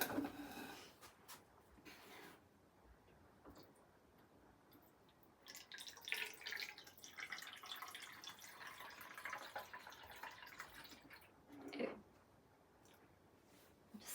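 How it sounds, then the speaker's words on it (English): Water poured from the top onto freshly transplanted African violets drips and splashes softly into potting soil, a faint, close trickle with small clicks and a brief louder patch midway. "I am going to water them in from the top because we just transplanted them."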